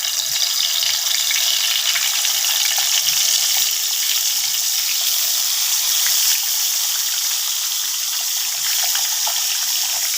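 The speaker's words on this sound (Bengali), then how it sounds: "এখন আমি মাছটা দিয়ে দেবো।" Fish fries in hot oil in a home kitchen, giving off a loud, steady hiss and crackle that holds evenly throughout.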